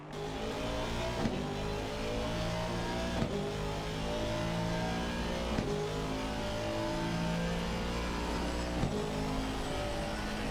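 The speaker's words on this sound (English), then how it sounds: "Peronihi has been thrashing the tyres off of that V8 Vantage in through the turns 10 and 11." An Aston Martin V8 Vantage race car in a racing video game at the Kyalami circuit, its engine droning and revving steadily through turns, with a few pitch drops at gear changes, continuous and moderately loud.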